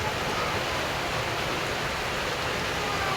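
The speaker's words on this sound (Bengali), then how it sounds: "বাইরে খুবই বৃষ্টি হচ্ছে" Heavy monsoon-style rain falls outside a home in an even, unbroken wash of hiss that stays loud and constant, with no voices.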